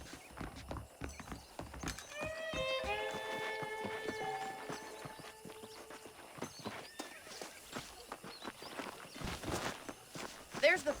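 Horse hooves clip-clop steadily along with a horse whinnying, set in the busy soundscape of the video game Red Dead Redemption Remastered with a voice speaking over it.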